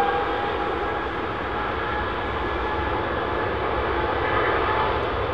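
Heavy airliner engines spooling up at London Heathrow Airport, a loud, steady, broadband roar that holds close and constant throughout with no voices.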